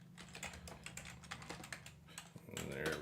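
Rapid typing on a computer keyboard, a quick irregular run of close, crisp key clicks that lasts most of the moment before a brief louder shuffle at the end, with no voices.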